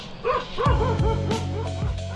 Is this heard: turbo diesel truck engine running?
no